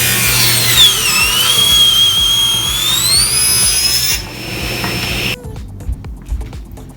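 A table saw rips through hardwood with a loud, close whine. The motor pitch sags and recovers as the blade cuts, then the cut stops abruptly and only faint clatter remains.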